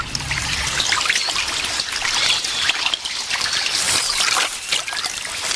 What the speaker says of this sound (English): The floods have driven the armadillo out of her burrow and into the swollen river to swim for her life.